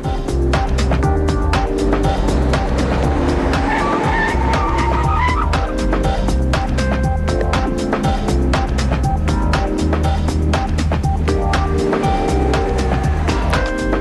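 An Audi A8 6.0 W12 Quattro brakes hard from 100 km/h, a loud, sustained roar of tyres and road noise. A brief squeal rises partway through, and a tonal background runs underneath the whole stretch.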